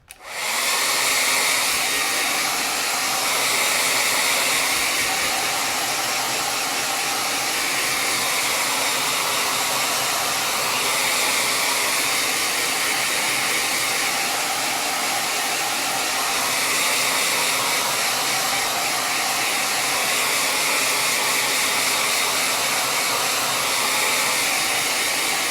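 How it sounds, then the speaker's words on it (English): A blow dryer runs steadily on a freshly made painting, a continuous loud whooshing roar with an airy hiss that holds nearly unchanged for about 25 seconds, with no voices. "it with the blow dryer because I wanna make sure that it's dry before I start putting my lettering on there"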